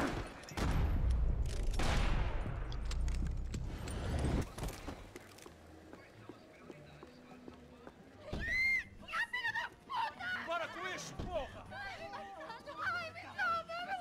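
Gunfire in the video game Max Payne 3: a dense burst of shots at the start, then scattered game sound and loud character chatter and shouting over the later part.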